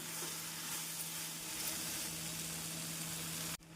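Cooked rice being stirred into vegetable biryani in a pan, a steady sizzling and scraping hiss that runs continuously and close, then cuts off abruptly near the end.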